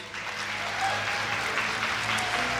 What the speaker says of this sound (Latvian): Lielie aplausi.